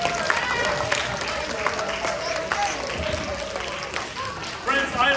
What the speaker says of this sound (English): How about a round of applause for air pressure?